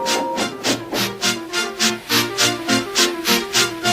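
A steam locomotive sitting on a turntable puffs out steady, rhythmic chuffs of hissing steam, loud and close, with a low rumbling engine tone underneath throughout.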